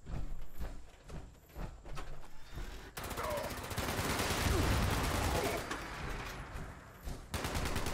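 Gunfire crackles in the Fallout 76 video game, first scattered sharp shots, then a dense, sustained fusillade of rapid bursts that swells in the middle before tapering and returning to louder shots at the end.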